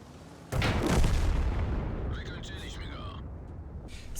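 A tank cannon shot in World of Tanks, a sudden heavy boom with a deep rumbling tail that slowly fades, followed by brief metallic ringing tones over a low background hum.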